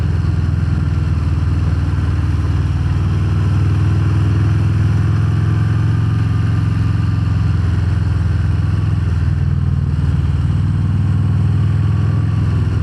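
Harley-Davidson Fat Bob 114 cruiser riding steadily in third gear, its deep, loud engine rumble constant and close throughout with slight swells in revs and no talking.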